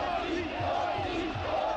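Protest crowd in Bucharest during violent anti-government riots, a dense mass of voices shouting and chanting together, loud and continuous with rising and falling swells, no single speaker standing out.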